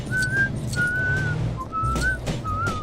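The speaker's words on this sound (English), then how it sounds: "you get to play as Luis from Ant-Man, and he whistles" A clear whistled tune of four short rising phrases from the Luis character in a LEGO Marvel game, fairly close and bright, over a low background rumble.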